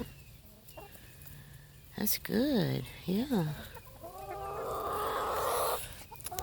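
Hens cluck and murmur nearby, with a couple of louder rising squawks, while a person speaks briefly alongside them.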